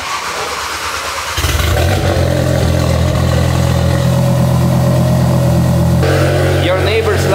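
A car with a DAZA engine swap and a mechanical fuel regulator starts and runs loud and close, settling into a deep, rough, steady roar with a shift in pitch near the end. People talk over the engine.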